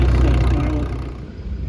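A 1958 50 Deluxe tractor with a 50-horsepower engine idles at a steady low rumble, loud and close at first and easing slightly over the short stretch.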